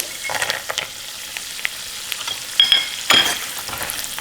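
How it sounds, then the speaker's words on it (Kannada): Cashews fry in a pan toward golden brown with a light crackling sizzle, while a spoon stirs them in uneven scrapes and clinks, close by and with no voices. "ಇದು ಕೂಡ ಸ್ವಲ್ಪ ಗೋಲ್ಡನ್ ಬ್ರೌನ್ ಕಲರ್ ಬರೋವರೆಗೂ ಫ್ರೈ ಮಾಡ್ಕೋಬೇಕು."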